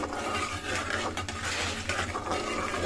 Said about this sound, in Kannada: ಕಡಲೆ ಬೀಜ ಎಲ್ಲವೂ ಕೂಡ ಅಲ್ಲಿಗಂಟ ನೀಟಾಗಿ ಫ್ರೈ ಮಾಡ್ಕೊಳ್ಳೋಣ